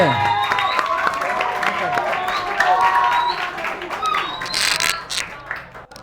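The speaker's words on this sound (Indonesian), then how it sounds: "Tepuk tangan dulu untuk regu." Audience applause for a competition team at a final, a burst of clapping from a crowd that swells, then fades toward the end, with a voice speaking over it.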